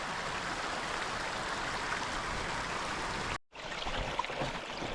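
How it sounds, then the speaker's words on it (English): A forest stream in the North Laurel Fork Wilderness Area of West Virginia flows with a steady, soft rushing hiss, broken by a brief dropout near the end. "And the stream's right here."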